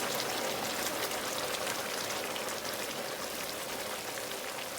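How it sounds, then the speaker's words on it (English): Saffron-infused oil poured over crisped rice in a pan sizzles loudly and steadily, a dense crackling hiss that carries on without pause throughout. "So in goes that saffron thread infused oil. Ooh, that's a lot of noise."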